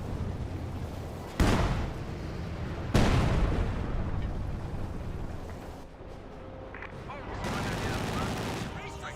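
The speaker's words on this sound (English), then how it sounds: "Max barrage firing away." Gunfire from a Maxim machine gun in Company of Heroes 2 erupts in loud sustained bursts with heavy booming onsets, blending into dense battle noise and distant explosions across the clip.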